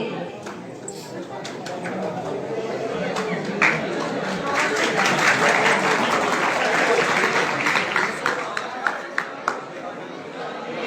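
Audience clapping at a school New Year program, a sustained round of applause from a large crowd that swells toward the middle with scattered louder claps and background chatter.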